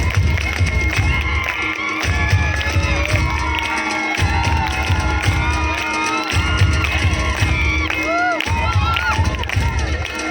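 An audience at a school annual function in Atwade, with a loud, dense crowd of children shouting and cheering, scattered clapping, and voices rising and falling throughout.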